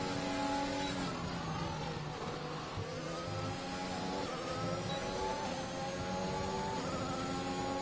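Formula 1 race cars in a Canada-round esports game, driven as a Williams battles for position, scream continuously with rising and falling engine whine as several cars run close together, steady and loud without voices.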